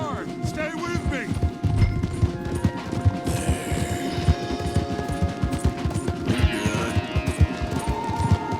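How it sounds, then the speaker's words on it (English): Horses galloping hard in Red Dead Redemption 2, a dense rapid run of hoofbeats under loud gunfire and crashing action sounds, with a voice talking over the ride. "We gotta go, Arthur. Come on! We need to ride hard."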